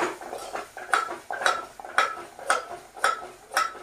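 A spoon scrapes and clanks rhythmically in a pan as a masala of chilli powder, turmeric, cumin powder and garam masala is stirred, with about seven evenly spaced strokes, close and moderately loud, with no talk.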